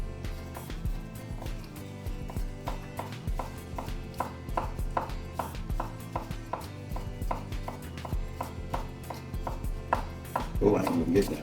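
A knife slices garlic thinly on a cutting board in a steady, quick run of crisp taps that goes on throughout, with faint kitchen clatter behind it and no talking.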